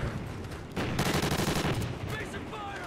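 Dense automatic and burst gunfire from the video game Call of Duty Modern Warfare 2 (2022), loud and continuous through the moment, with a faint voice mixed in among the shots.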